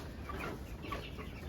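A Cuckoo Marans hen on a farm gives a few soft, low clucks against steady outdoor background noise, close by and brief.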